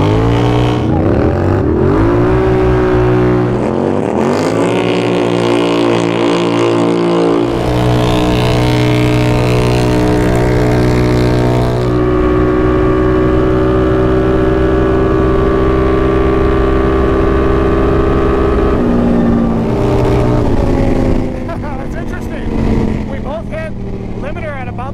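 Polaris Scrambler XP1000S and Can-Am Renegade 1000 ATVs race side by side, their engines loud and close, revving up through rising gear pulls and holding a strong sustained drone, with people talking over the engine noise.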